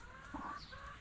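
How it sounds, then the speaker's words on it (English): Chickens feeding together in a farmyard cluck softly, with a few short, faint calls over a quiet background. "how many chickens we got here eating?"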